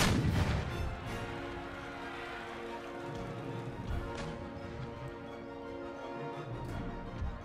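Artillery in Empire: Total War firing shrapnel shot at troops on walls: a burst of booming fire at the start, then a low rumbling battle bed with crackling, distant gunfire-like pops throughout.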